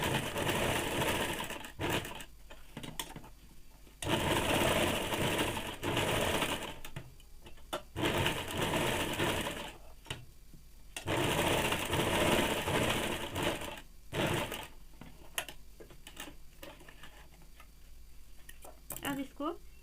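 A sewing machine stitches woolen cloth for a baby frock in loud bursts of rapid mechanical rattling, stopping and starting repeatedly, with someone talking in the pauses.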